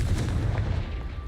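In a Harry Potter wizarding video game, a Confringo blasting spell goes off as a single heavy, close explosive boom with a rumbling low-end burst.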